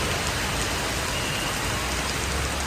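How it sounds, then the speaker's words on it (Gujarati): Heavy monsoon rain pours down in Gujarat, a dense, constant close hiss of drops striking surfaces with no letup. "જો ને કેટલો બધો વરસાદ છે."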